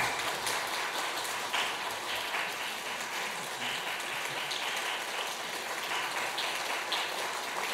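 A church congregation at a Sunday worship service claps together to congratulate course graduates receiving certificates and gifts, a steady wash of applause that sounds almost like rain, moderately distant.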